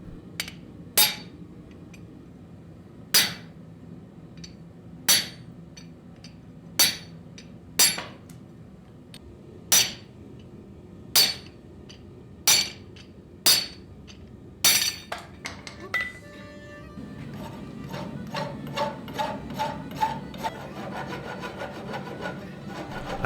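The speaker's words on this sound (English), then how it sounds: "I move on to cutting off the excess material with my chisel" A hammer strikes a chisel cutting excess steel from a forge-welded, laminated axe blade, about a dozen sharp ringing blows at a steady pace, then quicker lighter taps over a rougher scraping bed.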